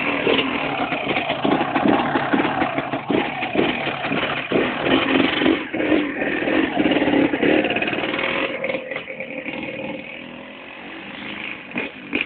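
A motorcycle engine idles nearby with a steady, uneven putter, its rhythm rising and falling slightly throughout.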